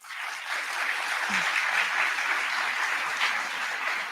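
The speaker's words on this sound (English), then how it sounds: "I want to hear a round of applause for yourself" A room of commerce students at a college orientation breaks into a steady, dense round of applause that carries loudly and evenly from start to finish.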